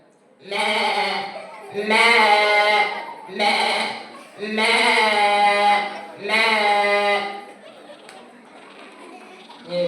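A person imitates a goat during a mimicry act at a church feast-day celebration, bleating five times in wavering, drawn-out cries with short pauses between, loud and close.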